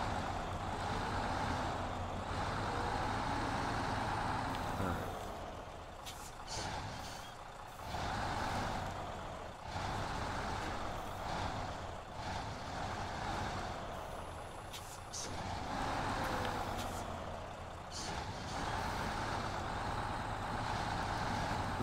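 A truck reversing a double pivot trailer in a driving game, steady diesel engine drone with repeated reversing beeps and a hiss of air brakes, no talk.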